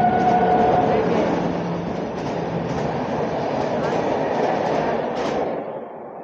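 A Lucknow Intercity express train rolls into platform 4 at a busy Indian railway station, a steady loud rumble of wheels and wagons with faint tonal squeal, slowly easing toward the end.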